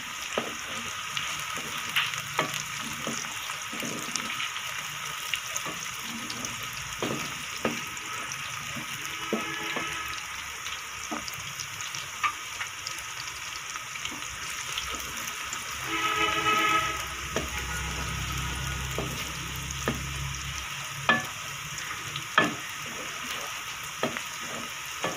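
Chopped green chillies and mongray sizzle with potatoes in a frying pan: a steady, close frying hiss runs throughout, broken by sharp clicks and scrapes of a spoon, with a brief louder burst of sizzling near the middle.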